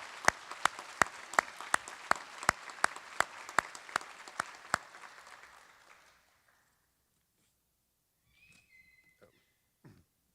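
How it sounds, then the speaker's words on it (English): Audience applause at a Wingate University School of Pharmacy pinning ceremony, with about six seconds of dense clapping carrying a run of sharper, evenly spaced slaps up front, then fading into near silence with faint distant sounds. "Please join me in a round of applause"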